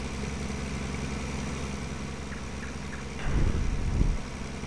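A tractor engine idles in Farming Simulator 19 with a steady low rumble, followed by a brief louder surge of revving near the end.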